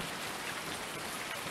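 Rain in the farming game Farming Simulator 19: a steady, even hiss of falling rain fills the whole stretch without letup, fairly loud and with no voices over it.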